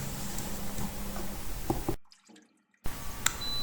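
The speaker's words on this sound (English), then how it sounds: "we add water to the pan to make it a bain-marie, a water bath" Water poured into a baking pan around ramekins of crème caramel to form a bain-marie: a steady splashing, trickling wash, a brief near-silent break, then the pouring and dripping resume, close up with no talking.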